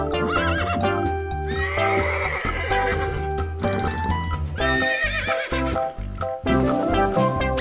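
A horse neighs and whinnies loudly over a busy musical backing, with clip-clop hoofbeats, set among farm animal sounds.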